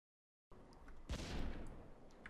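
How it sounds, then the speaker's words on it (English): A single muffled boom in the video game Stormworks: Build and Rescue bursts out after a moment of silence, rumbling low and fading slowly, with faint crackles around it. "Did I just hear an explosion?"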